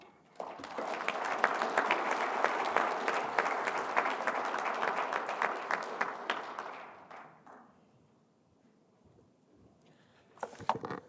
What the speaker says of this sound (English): How about joining me in a round of applause for our very talented